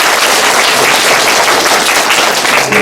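An audience at a Jecheon International Music & Film Festival review session claps. The applause is steady, dense and loud throughout, with no voices over it.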